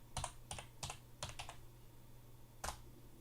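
Quiet clicks of someone typing on a computer keyboard come in a short run of about five keystrokes, then a pause and one more tap, close and faint over a low hum.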